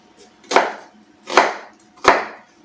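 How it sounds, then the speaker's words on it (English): A knife roughly dices an onion on a chopping board for a stew, giving three sharp, separate chops about a second apart, close and clear with no talking. "I'm just going through it once because it just needs to be roughly diced"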